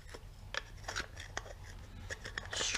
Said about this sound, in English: Scrape it off the valve itself.